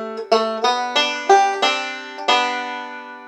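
Bluegrass banjo picking a short melodic phrase from Grandfather's Clock, about seven distinct plucked notes in steady quarter-note rhythm, close and clear, with a final note left ringing and no talking.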